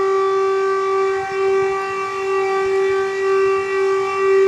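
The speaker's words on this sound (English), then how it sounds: "I cannot say why this siren is sounding" A civil defense siren in a park at Dharmasthala, Karnataka, holds a loud, steady wail with a slightly undulating pulse, continuous and alone for several seconds.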